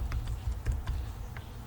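A postal code is tapped out on a computer keyboard, a handful of quick, light key clicks in an uneven rhythm, close and fairly quiet.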